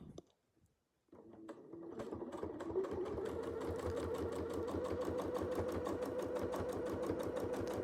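Sewing machine stitching on a quilt in free-motion work: after a brief quiet start with a few taps, steady rapid mechanical stitching runs continuously and close, fairly loud, with no talking.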